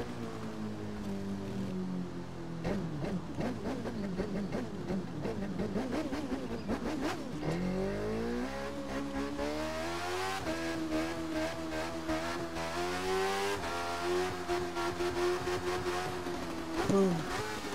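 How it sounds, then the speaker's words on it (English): Motorcycle engine revving hard and climbing through gears during a 115 mph wheelie, a steady loud drone with rising harmonics and wind rush, no talking. "115 mile an hour wheelie there I got"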